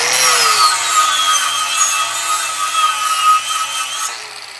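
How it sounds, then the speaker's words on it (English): An angle grinder from Roark Supply, pressed hard into metal while shaping a custom motor plate, grinds loudly and close with a steady rasp whose pitch sags and recovers under load. "we got this grinder from Roark Supply"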